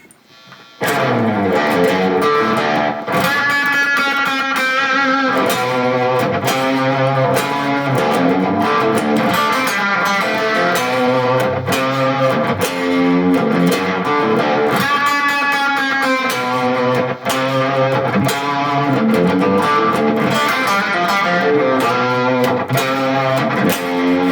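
A loud distorted electric guitar, a Fender Jazzmaster Ultra played through an attenuator, plays riffs and sustained chords continuously, with thick, saturated tone and no voices.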